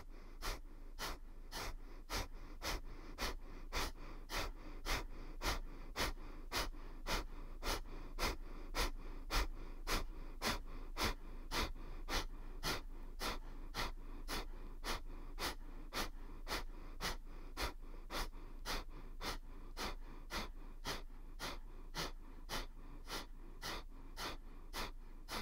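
Rapid, rhythmic forceful exhalations through the nose during a yoga breathing exercise, a steady series of short sharp puffs repeating about every half second, close and alone with no talking.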